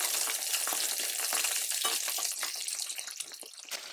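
Chicken wings sizzle and crackle in hot oil over medium heat for chilli chicken wings, a steady close frying hiss with popping bursts throughout.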